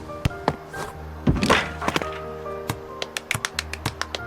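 Basketball thuds on a high school court, a heavy bounce followed by a run of sharp, evenly spaced taps and knocks that speed up toward the end, close and fairly loud.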